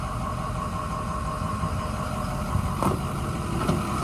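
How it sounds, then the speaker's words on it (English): A 2007 Ford F-350 dump bed truck engine runs at a steady idle, a constant close rumble with no clear revving, alone. "I'm gonna rev it up for you so you can hear it."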